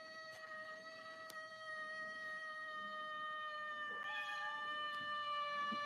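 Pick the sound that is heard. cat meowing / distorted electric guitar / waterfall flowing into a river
cat meowing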